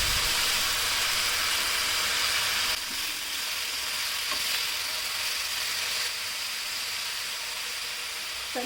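Chopped green chickpea leaves with finely cut green chillies fry in oil in a pan, giving a steady close sizzling hiss that holds throughout, easing slightly partway, with a faint clink near the end.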